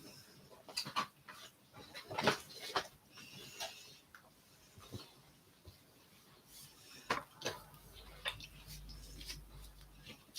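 A dog close by makes soft, excited whimpering and panting sounds in scattered bursts, with faint clicks and shuffling noises between them and a low hum near the end.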